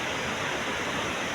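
A stream flowing through forest gives a short burst of steady, even rushing water at moderate volume.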